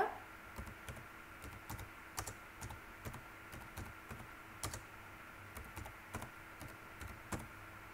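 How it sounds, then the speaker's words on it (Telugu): Computer keyboard typing while entering names into an Excel spreadsheet, a steady run of close, quiet key clicks in irregular bursts with no voices. "ఇక్కడ నేను ఏం చేస్తున్నాను అంటే నేమ్స్ అనేవి రాస్తున్నాను"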